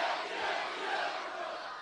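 Rally crowd at a Pakistan Peoples Party gathering shouting a slogan back in unison, a dense roaring chant filling the grounds and holding steady for the whole moment.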